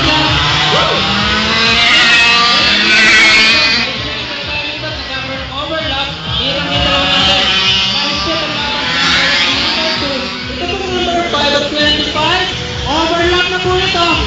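Go-karts racing around a track at a Cabanatuan karting day, loud overlapping engine whine rising and falling as karts accelerate and pass, continuous throughout, with a commentator talking over the engines.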